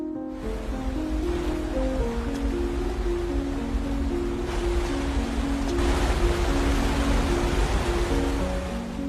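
Steady rushing water roars continuously, broad and loud like a waterfall, with a faint tonal hum layered underneath.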